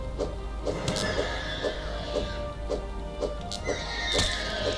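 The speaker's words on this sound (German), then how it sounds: "was macht der denn für Pferdegeräusche?" A horse neighs and whinnies repeatedly in the video game Starbound, over a constant background hum, with a few sharp knocks in between.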